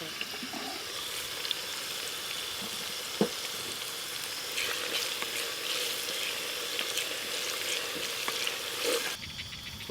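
Onions frying in a pot with bay leaf, cloves and cardamom, a steady close sizzle with occasional clinks and stirring scrapes, ending in a brief louder rush near the close.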